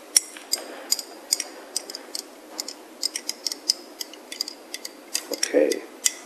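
A teaspoon clinks repeatedly against a glass flask while stirring chlorella powder, sharp bright ticks in an irregular rhythm, close and moderately loud, with a brief softer rustle near the end.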